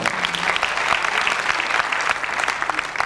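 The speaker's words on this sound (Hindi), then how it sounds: "तालियों से इस्तकबाल।" A mushaira audience at a press club gathering breaks into loud, sustained applause to welcome a poet, thick rapid clapping running evenly from start to finish.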